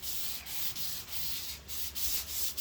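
Hand sanding on a garden tool during maintenance, a close, steady rasping scrape in rhythmic back-and-forth strokes, about eight passes with brief pauses, no talking.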